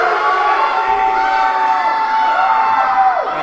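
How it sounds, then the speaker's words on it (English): A dense arena crowd at a wrestling show in Georgetown roars and cheers continuously for the hometown wrestler, loud and sustained with shrill whoops rising above the din. "now the crowd thoroughly in the corner of Aaron Matthews"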